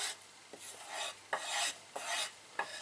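A puukko knife blade is drawn across leather glued to a flat board, making about five close, rhythmic rasping strokes, each a soft swish with a light scrape at the turn, with no voices.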